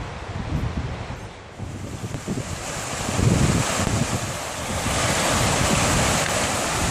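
Rushing water of a swollen mountain creek in a valley near Glen Pass, a continuous close roar with wind buffeting the microphone and no talk.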